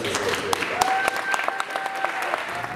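Audience at a bill-signing event applauds with dense, sustained clapping for several seconds, close and fairly loud, with a faint tone in the background and no talking.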